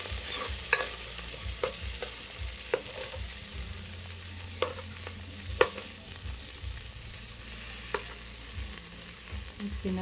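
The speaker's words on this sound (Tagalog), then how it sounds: "magisa tayo ng ricado, ahos at saka ang tawag nito, garlic at" Garlic and red onion sautéing in a small amount of oil, a steady soft sizzle with occasional sharp clicks of a utensil stirring against the pan, close and moderately quiet, no talking.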